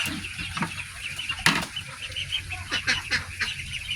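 Pet ducks by their pool give honking calls and flap their wings, several birds close by, with a sharp flurry of wingbeats and scattered quacks over soft background noise.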